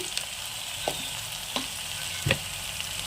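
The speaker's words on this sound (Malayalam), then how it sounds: "ഈ പൊടികളുടെ പച്ചമണം മാറുന്നത് വരെ ഇളക്കി കൊടുക്കാം" Spice powders frying in oil for a Kerala-style sardine curry, a steady close sizzle broken by a few soft scrapes of stirring.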